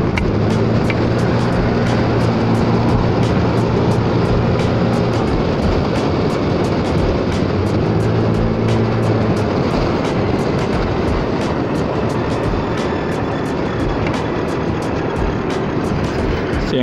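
Sustained roar of a rear-engine race car in the Forza video game, loud and continuous, with rising and falling pitch through gear changes and a rapid ticking pattern running over it.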